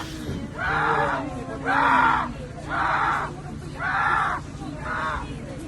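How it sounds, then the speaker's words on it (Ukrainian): People scream and groan in agony, five drawn-out anguished cries in a regular rhythm, loud and close, separated by brief pauses. "жахливі звуки, оці всі крики, агонії"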